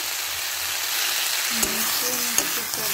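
Chili, cumin and coriander powders frying in a pan with beans and eggplant, a steady close sizzle with a few sharp scrapes and clinks as the spices are stirred in.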